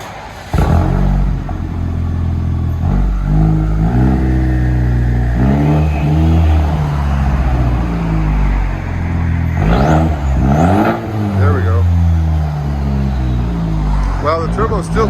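A 2021 Chevy Silverado with a straight-piped 2.7L turbo engine revs repeatedly and loudly, rising and falling in aggressive bursts with a raspy exhaust tone, while people talk throughout.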